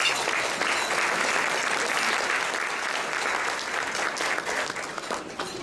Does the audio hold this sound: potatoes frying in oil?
no